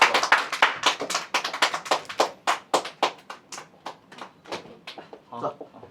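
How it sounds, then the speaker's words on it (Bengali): At a Chinese wedding, a few guests clap by hand in quick, sharp bursts close by, the claps thinning out and growing quieter over several seconds. "আমি একটু হাততালি দিই।"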